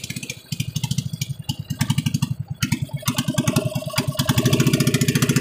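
A motorcycle engine running close by, its firing pulses beating in a quick rhythm that briefly wavers and then settles into a slightly faster, steadier chug.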